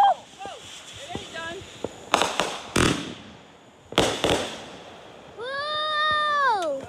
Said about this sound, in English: you don't be able to see anything except for the fireworks